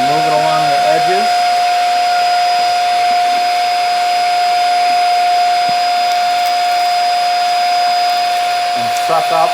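A vacuum cleaner sucks dust from the bottom of a fridge, giving a loud, steady, high-pitched whine and roar that runs continuously throughout, with brief muffled speech near the start and end.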